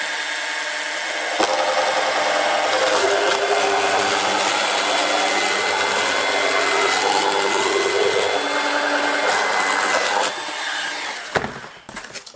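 A Bosch cordless multi-cutter, an IXO with cutter attachment, slices through material about 11 mm thick, producing a loud, steady buzzing grind for roughly ten seconds before the motor cuts off and a few handling clatters follow.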